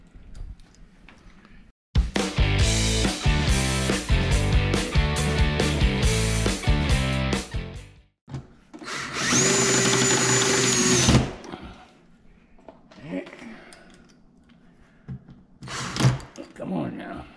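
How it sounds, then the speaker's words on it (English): A power drill drives screws along the side of a C5 Corvette aero kit in loud, close bursts separated by pauses, with clicks and thunks in between and someone talking briefly. "Now we're just going to go along and put the screws in all along the side here"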